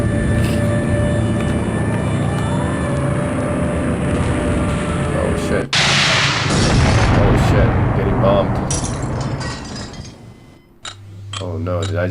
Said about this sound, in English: Oh no, did I just get bombed?